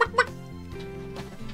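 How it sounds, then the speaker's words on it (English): Chicken clucking, heard as a couple of quick, loud squawky clucks at the start, followed by a steady tonal drone with no talking. "Or a chicken?"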